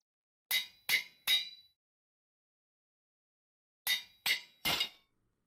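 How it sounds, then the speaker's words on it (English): Anvil breaking in Minecraft: two sets of three sharp metallic clinks, each a quick triple strike, separated by a few seconds of silence, close and clear with no talking. "tried repairing it on the anvil we found there, which immediately broke said anvil"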